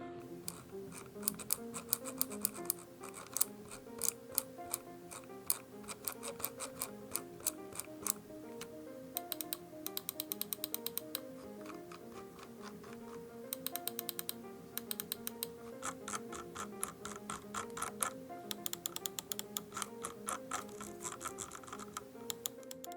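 Lightweight gaming mice are clicked over and over, giving sharp small ticking clicks in irregular quick runs, with quieter stretches between bursts.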